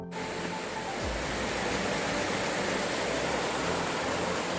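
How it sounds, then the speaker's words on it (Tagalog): The Basig River rushes below in a broad, steady stream of water noise, continuous and fairly loud throughout, with no voices. "So ayan yung baba, yung ilog."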